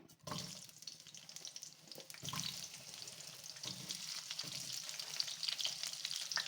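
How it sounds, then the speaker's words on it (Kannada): Sliced medium onions drop into hot oil in a pan and fry with a steady, close sizzle, broken by a few clunks and stirring scrapes; no one speaks. "ಎರಡು ಮೀಡಿಯಮ್ ಸೈಜ್ ಈರುಳ್ಳಿ ಈ ಥರ ಕಟ್ ಮಾಡ್ಕೊಂಡಿದ್ದೀನಿ ಅದು ಹಾಕ್ಕೊಳ್ತಾ ಇದ್ದೀನಿ"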